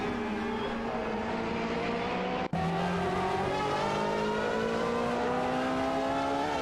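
Aston Martin AMR1 and Porsche 962C Longtail prototype race cars in a video game, their engines droning loudly and steadily side by side with rising pitch as they accelerate, a brief dropout midway.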